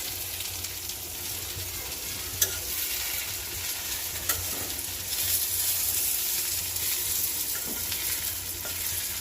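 Vegetables and eggplant fry in a pan with a steady close sizzle, broken by a few stirring clicks and scrapes.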